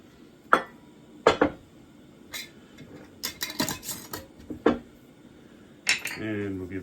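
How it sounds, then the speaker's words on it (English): Metal spoon clinks against a cooking pot in several sharp, separate strikes, with a brief stirring scrape between them, close by in a quiet kitchen while sugar is being cooked. "And we'll give that another stir"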